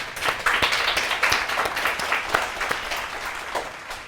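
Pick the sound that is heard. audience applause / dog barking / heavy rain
audience applause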